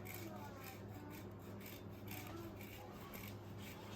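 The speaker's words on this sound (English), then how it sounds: "We're gonna grate some cheese." Parmesan cheese grated over a plate of sweet potato gnocchi in sage butter sauce, giving a faint, steady rasping scrape that runs for the whole few seconds with no clear pauses.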